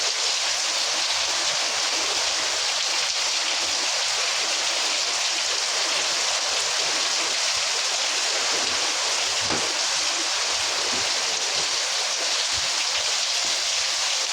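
Steady winter rain falls continuously, a dense even hiss with occasional louder drops and no voices.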